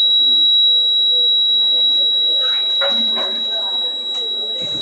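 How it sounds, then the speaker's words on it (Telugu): An electric buzzer on a student's school science fair exhibit gives a steady, piercing electronic tone that sounds the whole time, with faint voices and crowd murmur underneath. "లైట్ చూడకుండా మీరు అలాగనే వస్తే బజర్ సౌండ్ వస్తుంది."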